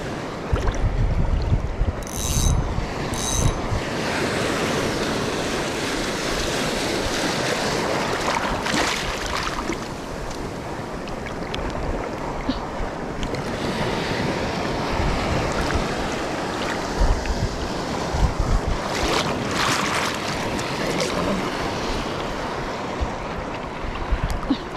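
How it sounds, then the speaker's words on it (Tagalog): Big ocean waves crash and churn around a small fishing boat at sea, a steady loud roar of surf and spray with gusting wind noise across the whole stretch and a few brief mechanical clanks. "Lalaki ng alon."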